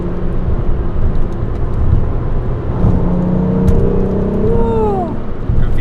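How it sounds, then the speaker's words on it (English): 2008 VW R32 with a VR6 engine accelerating along curvy rural roads in Wisconsin, a steady loud engine drone with rising pitch sweeps as it revs through the gears. "The VR6 just singing."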